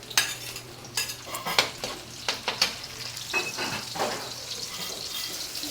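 Onion, garlic and tomato sautéing in hot oil, with soft sizzling under repeated scrapes and clinks of a utensil stirring in a pan, close and moderately quiet.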